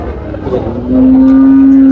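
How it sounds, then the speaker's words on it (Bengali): At Tepakhola cattle market in Faridpur, a cow lets out a loud, close, sustained low moo that starts partway in and holds steady to the end, over faint background bustle. "এই গরু কাদের ভাই?"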